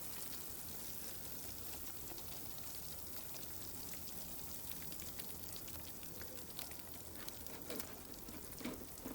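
Homemade castor oil is strained through a sieve, making a steady, close patter of trickling and dripping liquid with scattered brighter drops throughout and no voices.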